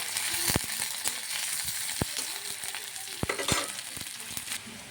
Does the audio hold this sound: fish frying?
yes